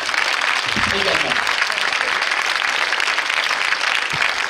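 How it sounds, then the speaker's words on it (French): An audience at a film premiere screening in a cinema applauds the film crew, a steady, dense wash of clapping filling the room for several seconds, with a voice briefly audible early on beneath it. "vous pouvez les applaudir"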